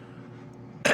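A single sharp, loud cough bursts out at the very end, following a stretch of quiet low room hum.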